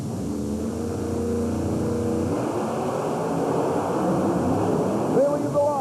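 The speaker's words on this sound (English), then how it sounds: "They leave the line, and it's Anderson by nearly a full truck length" Heavy monster truck engines roar and rev loudly, building into a thick mechanical rumble as the trucks accelerate off the starting line at a 1991 USHRA race in Worcester, with crowd noise underneath.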